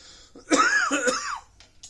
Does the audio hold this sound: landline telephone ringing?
no